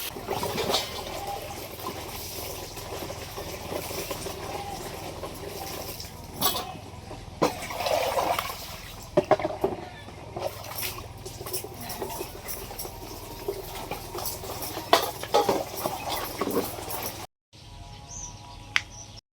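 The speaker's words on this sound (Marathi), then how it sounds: "भांडी बाहेर आणली ती घासायला आता भांडी घासून घेते" Running water splashes and trickles steadily, with clinks of dishes being scrubbed and rinsed close by; birds chirp faintly in the background.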